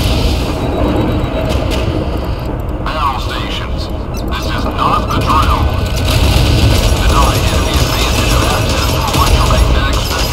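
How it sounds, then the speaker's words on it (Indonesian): Many airplanes drone overhead in a 5 vs 5 online game tournament, a dense roaring engine wash that fills the whole stretch, loud and continuous, with players talking over it. "Buset, itu pesawat keluar semua tuh"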